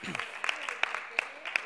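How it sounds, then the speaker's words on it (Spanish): A church congregation claps during a sermon, producing a steady patter of handclaps with a few sharper, louder claps spaced through it, heard at moderate distance. "Ahora sí, date un aplauso"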